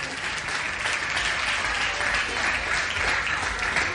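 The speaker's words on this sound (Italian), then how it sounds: "Facciamogli un applauso perché è il numero 1" A crowd at a regional beauty-pageant selection in Panza, Ischia, in August 2009 gives a sustained round of applause, a thick, even wash of many clapping hands that holds steady from start to end.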